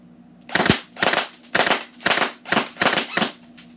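Sharp bursts from an ICS Galil airsoft rifle firing controlled shots, seven short cracks at a steady, even rhythm, loud and close with a faint hum beneath.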